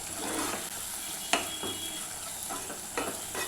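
A spoon stirs a thick ridge gourd gravy in a pan, with a soft continuous scrape and gentle sizzle, a few sharper clicks against the pan sides, no voices.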